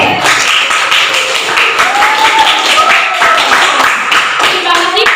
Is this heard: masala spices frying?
no